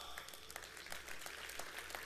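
Light, scattered applause from a conference audience, a thin patter of claps spread across the room that stays fairly quiet and steady throughout.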